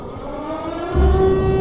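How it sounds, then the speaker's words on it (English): A steady, droning siren tone in the horror video game ROT - Purgatory Hill rises in pitch and grows louder over a low rumble, sustained without pause. "You don't do the same sirens, do you?"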